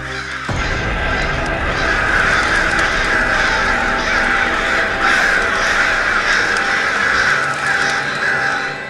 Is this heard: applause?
no